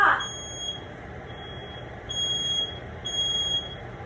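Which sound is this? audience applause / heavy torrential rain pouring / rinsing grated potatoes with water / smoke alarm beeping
smoke alarm beeping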